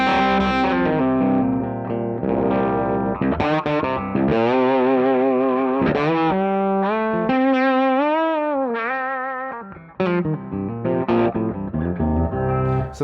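An electric guitar plays through a Two-Rock amp with a slightly dirty clean tone in a solo passage of chords and bending, sliding single notes. It is loud and close, with a short pause near the end before the playing resumes.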